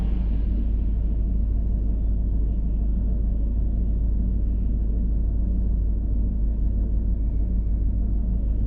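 Volvo drag car on a drag race run gives a steady, heavy low rumble that holds for the whole stretch, with distant engine drone and very little higher-pitched detail.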